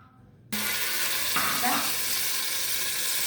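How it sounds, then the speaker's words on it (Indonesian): Spices sizzle and fry loudly in hot oil in a pot, a sudden close burst of steady crackling hiss that starts abruptly and continues unbroken, with brief stirring. "Saya panaskan minyak di panci ya, yang saya mau pakai masak. Sama saya goreng dulu bumbunya sampai baunya harum."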